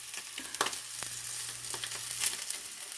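Bacon frying in a pan, a steady crackling sizzle with scattered pops and spatters, close and even throughout.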